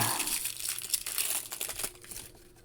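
A separate plastic baggie holding a flaming Sentry head accessory for a Hasbro Marvel Legends figure crinkles loudly and continuously up close, rustling steadily before tapering off.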